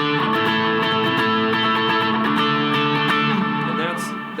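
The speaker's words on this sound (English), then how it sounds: "So I've got a little bit of a boost with my tube screamer, a little bit of MXR reverb, and that's it, and a little delay." An electric guitar plays through a Tube Screamer boost with MXR reverb and a little delay, giving a sustained, lightly driven chordal tone with ringing overtones that holds steady for several seconds before tailing off.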